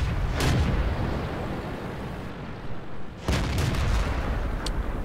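Artillery from a Grille self-propelled gun in World of Tanks, firing two heavy booming shots a few seconds apart. Each shot rolls into a long low rumble under steady battle noise.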